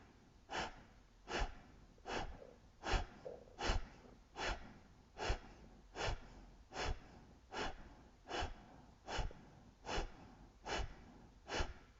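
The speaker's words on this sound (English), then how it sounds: "if you're comfortable with the breath of fire, just begin" Breath of fire, a yoga breathing exercise: about sixteen sharp, forceful nasal exhalations in a steady, even rhythm, close and clear with no talking.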